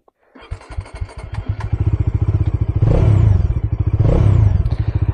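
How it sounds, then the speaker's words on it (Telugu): A Bajaj Dominar 400 motorcycle engine cranks briefly, catches, and settles into a loud, close, throbbing idle, with two rising revs near the end and no talk. "యాక్చువల్లీ బైక్ కొంచెం స్టార్టింగ్ అనేది కొంచెం లాంగ్ ఉంటుంది అన్నమాట."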